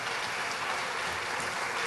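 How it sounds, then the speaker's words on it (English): An audience at a Yom Hazikaron ceremony gives a dense, steady round of applause for children's choirs, including a Beverly Hills synagogue choir, with clapping alone and unbroken. "Let's give them a nice round of applause."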